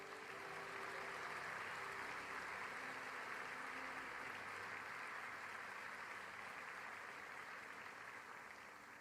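A church congregation applauds, a steady wash of many hands clapping that fills the room evenly and fades slightly toward the end, with no voices on top.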